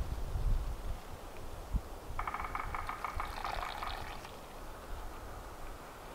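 Cowboy coffee pouring from a pot into a cup, a steady liquid trickle lasting about two seconds over quiet outdoor background hiss, moderately faint and close.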